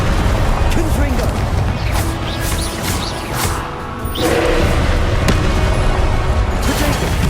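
Heavy booming blasts from the Confringo spell in Hogwarts Legacy, a dense, loud barrage of explosive cracks and rumbles filling the whole stretch.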